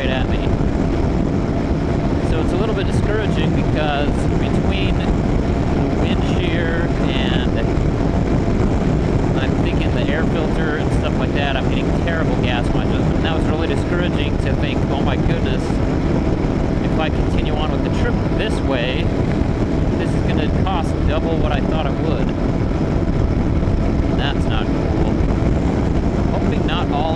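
Strong gusting wind buffets a rider on a motorcycle along an Idaho road known for frequent high winds, a loud, constant roaring rush of air mixed with engine drone that never lets up.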